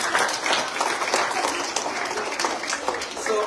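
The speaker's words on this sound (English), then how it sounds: "just help me thank your principal by clapping your hands" Close, lively hand clapping from an audience thanking a school principal, a dense burst of applause with audible individual claps, loud and continuous across the short stretch.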